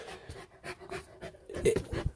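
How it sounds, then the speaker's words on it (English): A dog pants nearby in rapid rhythmic breaths, close and fairly loud, with a brief whimpery note near the end. "the dog's trying to attack me"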